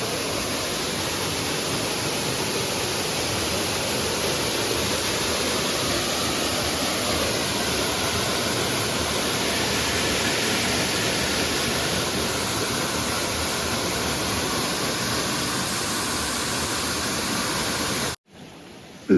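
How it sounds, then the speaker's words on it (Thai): A waterfall on a forest stream gives a steady, dense roar of rushing water that stays even and close. It continues with no voices for about eighteen seconds, then cuts off abruptly. "น้ำตก"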